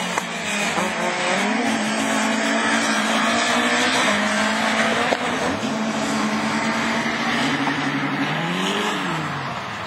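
Rallycross Division 4 race cars at Lavaré in the French championship, engines droning loud and sustained with shifting pitch as they rev and accelerate, with tyre noise and a faint commentator voice underneath.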